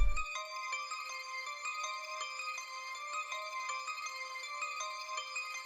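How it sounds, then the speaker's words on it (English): A bright, bell-like synth pitched up an octave plays a short arpeggio that repeats over and over, high-pitched and steady, alone with no voices. "it's just a simple like arpeggiating few notes that just repeats over and over"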